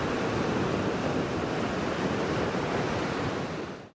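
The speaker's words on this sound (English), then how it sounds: "It is the special mix of Atlantic waves and winds hitting the volcanic outcrops that makes" Atlantic waves breaking steadily against a volcanic coastline with wind, a dense, continuous roar of surf that stays loud and close throughout before cutting off at the end.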